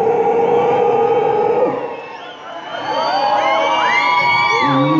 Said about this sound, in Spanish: Al sonido de esta canción, gritan los carnavaleros de corazón.